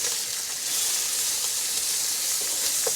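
Bacon sizzles in a frying pan, a steady bright hiss of frying fat with faint crackles and pops, heard close by and with no talking.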